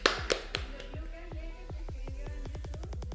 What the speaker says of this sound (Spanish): Aplauso para Kelly.